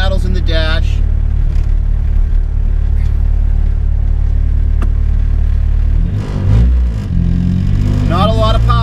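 A thirty-something-year-old Mk1 VW Rabbit diesel running loud, a steady low droning engine rumble with rattles from the dash, heard from inside the car with a voice speaking over it near the end.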